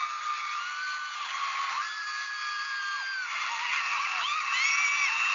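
A crowd at a concert screams and whoops in shrill, overlapping cries, heard as a continuous thin wall of high-pitched shrieks in a tinny recording.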